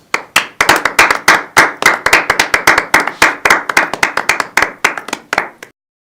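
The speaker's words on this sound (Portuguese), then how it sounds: "Com uma salva de palmas" A television studio audience claps in tribute to the Chapecoense football team, a slow, rhythmic run of about forty crisp, close claps in near unison that stops sharply before the end.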